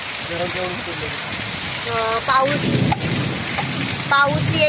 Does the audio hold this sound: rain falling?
yes